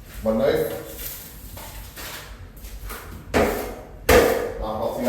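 Excess skim coat compound is knocked off a drywall knife during ceiling skimming, producing a few sharp metallic taps under a person's talk.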